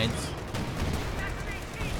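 A .50 cal machine gun rattles in a Company of Heroes 2 battle, steady bursts of gunfire blended into dense combat noise, with a voice talking over it.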